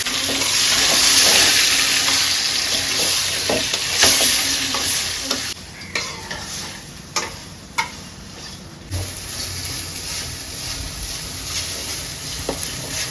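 Papaya cooking in a pan with turmeric and chili, loud steady oil sizzle with intermittent sharp ticks and clinks of stirring, the frying fading somewhat partway through.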